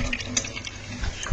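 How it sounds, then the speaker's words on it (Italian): Starchy pasta cooking water is drained off and poured while making Roman carbonara, a brief close splash and trickle of liquid lasting just over a second. "Scoliamo un pochino e aggiungiamo."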